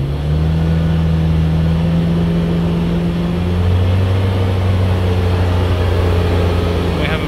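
A car engine fitted with a damaged DPF, undergoing a pressure test, is held steadily at about 3000 RPM: a loud, close, sustained drone whose pitch shifts once partway through.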